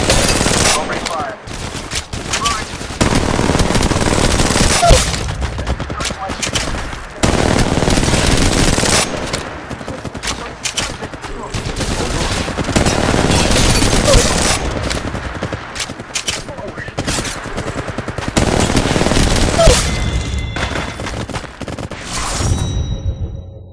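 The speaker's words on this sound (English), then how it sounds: "Making contact here. Reloading. Opening fire." Loud, sustained automatic gunfire from the mobile shooter game Apex Legends Mobile, with dense rapid bursts that barely pause for nearly the whole stretch and brief gaps near the end.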